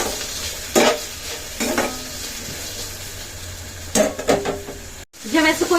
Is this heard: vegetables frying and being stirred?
yes